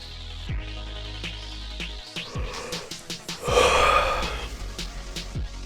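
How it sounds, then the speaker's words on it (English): A tired man lets out a long yawn close to the microphone, a drawn-out breathy exhale that swells and then fades, with a few soft breaths around it. "That was a yawn."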